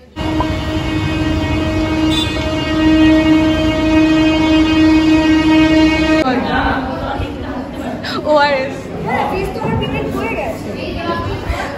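A Bangladeshi express train passing through Bongaon station sounds a loud, sustained horn at close range, then rolls through with a heavy rumble and clatter.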